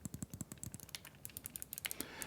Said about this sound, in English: You can tell it's a mouse click, extremely tactile.